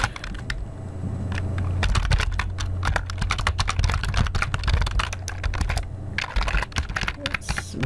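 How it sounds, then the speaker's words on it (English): Fast, dense typing on a computer keyboard, a rapid stream of close clicks and key taps over a steady low background hum. "I'm really typing it now."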